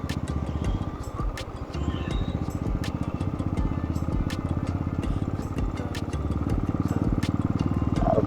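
A motorcycle engine runs steadily on a mountain road near Sevoke on a trip from Siliguri, a close, continuous rhythmic putter with faint ticking and clatter.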